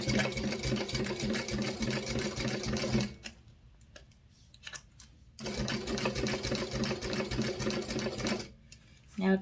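Sewing machine stitching a minimalist wallet, running in two bursts of steady rapid mechanical whirring with a quieter pause between them, close and loud.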